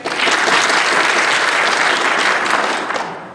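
A live audience at PAX East 2015 claps loudly and steadily for a few seconds, a dense wash of applause that fades slightly at the end.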